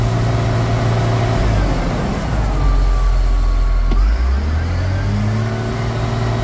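A CAT 950H wheel loader's diesel engine runs steadily and loud up close, with a faulty sensor unplugged and a low, sustained rumble that dips and shifts slightly in pitch as the revs change.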